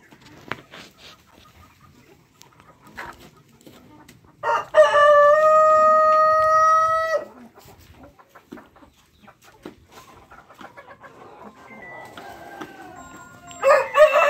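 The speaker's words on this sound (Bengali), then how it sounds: "এগুলো হচ্ছে সিল্কি ইউরোপিয়ান শর্ট সিল্ক" Silkie chickens on a fancy poultry farm in Rajshahi, where a rooster lets out one long loud crow among scattered clucks and another crow starting at the end, with people talking nearby.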